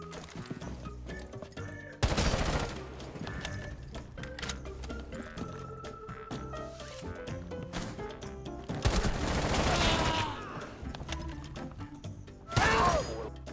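Gunfire from a Rainbow Six Siege match: three loud, dense bursts of automatic fire ring out against a busy background of game sounds, with a long stretch of sustained shooting in the middle and a short, sharp volley near the end.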